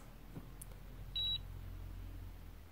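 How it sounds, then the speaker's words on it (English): One short, high electronic beep sounds clearly from a nearby Instyler Tulip hair curler amid quiet background hum. "And then it beeps like this."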